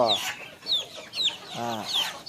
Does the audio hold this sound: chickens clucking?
yes